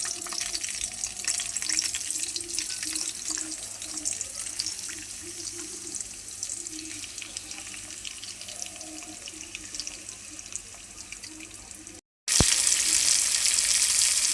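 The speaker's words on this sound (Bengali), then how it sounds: "মাছটা আমি আগে বাইজে নিব হালকা করে" Fish shallow-fries lightly in oil in a pan, with a continuous close crackling sizzle that holds steady, breaks off briefly, then returns louder and brighter.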